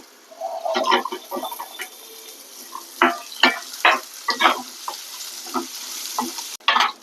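Ginger and small shallots fry in oil in a pan for a ginger curry, with bursts of crackling sizzle and stirring scrapes coming in irregular clusters, close and fairly loud, without talk.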